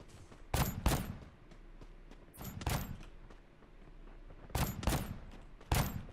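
Gunfire in the mobile battle royale game Free Fire Max comes as several separate bursts of shots spread across the clip against quiet game ambience.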